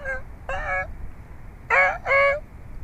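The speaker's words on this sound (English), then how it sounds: "Oh, they were quacking. Oh, I heard them quack." Birds calling outdoors in a quacking, honking way, with four loud, close, nasal calls falling into two pairs: two a little apart, a pause, then two in quick succession over a low background rumble.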